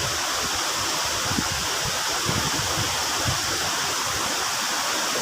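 Strong, rapid water rushes down Maeya Waterfall in Chengmai, Thailand, a dense, steady roar heard up close without pause or voices.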